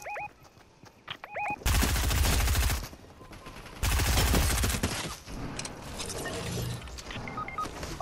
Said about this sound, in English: I'm getting shot at from like 5 different angles.